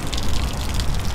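An RV water pump pushing water through the plumbing while the vehicle is being winterized, a brief steady gush of running water close by.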